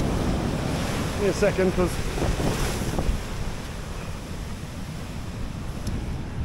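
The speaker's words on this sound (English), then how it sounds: "there's another big wave coming, so I'm actually going to move this time" Ocean waves breaking on the West Cork coast of Ireland, a steady close roar of surf with heavy wind buffeting the microphone and a few spoken words early on.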